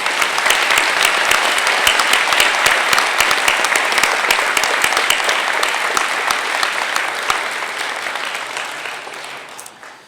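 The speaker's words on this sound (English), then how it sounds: "let's have one more round of applause for all of our awardees" Sustained applause from an audience at a college academic and leadership awards convocation, dense clapping that holds steady and then fades out toward the end.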